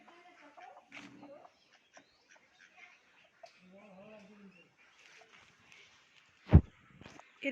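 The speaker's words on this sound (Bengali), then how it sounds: "দেখুন এখানে হাঁস আর কত মুরগিও এরা পোষে।" Ducks and chickens on a farm give faint, scattered quacks and clucks at a distance, mixed with soft background voices and a single sharp thump near the end.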